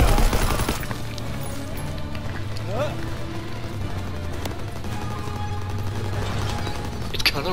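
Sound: gunfire in the video game Call of Duty WW2

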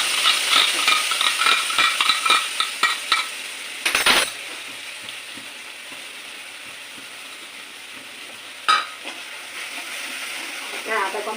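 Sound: frying ginger, cumin and coriander spice paste

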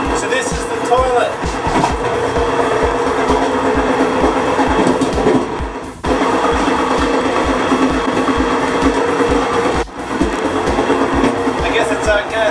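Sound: train rattling along tracks

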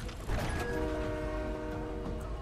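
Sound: train in the video game Fortnite

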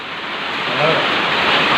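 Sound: heavy rain

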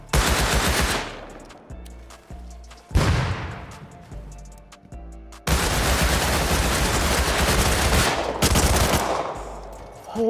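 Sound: MP5 submachine gun firing in Rust video game

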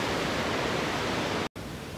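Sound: waterfall at Cummins Falls

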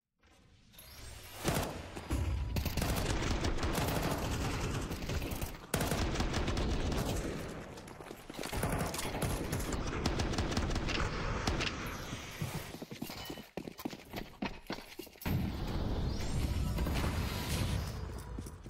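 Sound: gunfire in video game Counter-Strike, Overpass map

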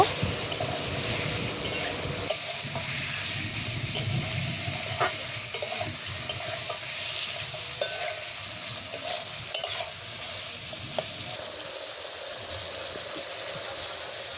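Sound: potatoes sautéing in oil for river small-fish curry

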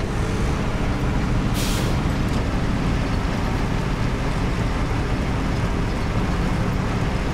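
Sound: truck in SnowRunner video game, air brake

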